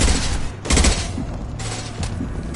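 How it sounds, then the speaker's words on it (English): A high-impact gunshot in Mass Effect 2 during a firefight: a loud heavy blast with a booming tail, then further shots and crackling combat noise. "Firing a high-impact shot!"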